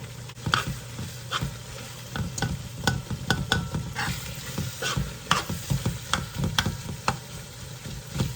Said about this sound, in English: while that's sauteing up, cooking the pisupo